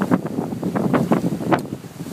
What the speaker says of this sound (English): The wind's back up to 20 knots.